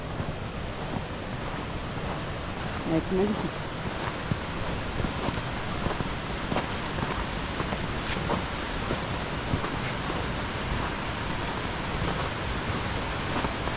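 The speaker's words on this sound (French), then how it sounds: "Donc là, on arrive sur la cascade." Mountain waterfall in snow at about 1200 metres altitude, a steady broadband roar of falling water heard close and continuous, with wind buffeting the microphone and one brief spoken comment midway.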